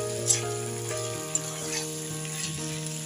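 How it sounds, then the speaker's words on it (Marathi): Potato bhaji seasoned with sambar masala sizzles as it is sautéed in a pan, making a steady frying hiss over a constant background hum, with a couple of brief clinks from stirring. "चांगलं परतवून ही भाजी करून घेऊया"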